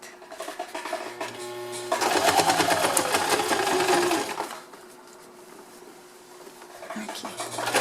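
Sewing machine running a straight seam, a loud fast whirring burst of stitching for a couple of seconds that stops, then a quieter start, with a voice talking nearby.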